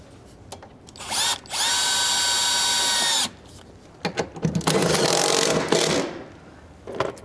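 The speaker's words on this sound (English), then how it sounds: "Hand me that little drill there and I'll zip these in." A small cordless drill drives screws into an adjustable fixture: one long steady whine, a short pause, then a rougher burst as the screw seats, with a few clicks and handling knocks in between.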